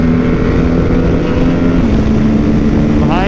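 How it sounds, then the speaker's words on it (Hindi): An Aprilia RS 457 motorcycle engine drones steadily and loudly, chasing an Aprilia RSV4 on a Bangalore ride, with constant wind rush over the microphone throughout. "Baby RS 457 trying to keep up with RSV4."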